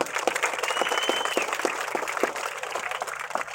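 Audience applause for Garapati Seetharamanjaneya Chowdary in Chintapadu, a dense, steady burst of many hands clapping at once that sounds close and fills the whole moment without any talk.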